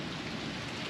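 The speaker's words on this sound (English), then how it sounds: "Cloudy, rain, wet, lightning, thunder." Steady rain falling during a morning thunderstorm, a dense continuous patter close by with no thunder or voices standing out over the brief stretch.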